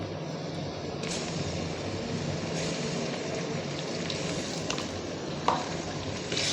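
Onion and ginger-garlic paste fry in a pan for a hotel-style gravy, a continuous crackling sizzle with a few sharp utensil scrapes and taps as it is stirred.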